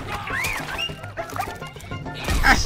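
Dogs bark in a fight in Injustice 2 with Harley Quinn, a quick burst of sharp yips and barks mixed with combat impacts and a shouting voice.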